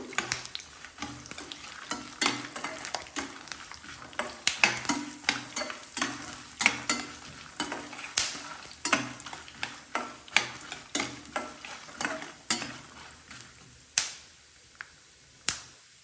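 Peppercorns frying in oil with peanuts, stirred in a pan: a soft sizzle punctuated by sharp, irregular pops and spoon clicks that thin out toward the end, close by.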